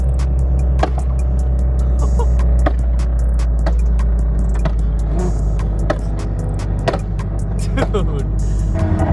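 Loud crackling exhaust pops from a bagged 2022 Subaru BRZ, sharp irregular bangs repeating over a steady low engine drone, close by, with excited voices talking over it.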